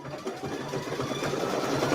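A computerized embroidery machine sews a blanket stitch on a quilt wall hanging with a quiet, steady mechanical whir and rapid needle chatter. The sound stays even and fairly faint, and no one speaks.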